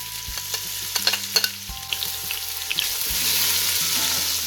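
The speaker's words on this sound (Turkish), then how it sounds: "Soğanımı da güzel kavuruyorum." Chopped onion sizzles in a hot pan while a utensil scrapes and stirs it in several quick strokes, the frying hiss swelling louder toward the end.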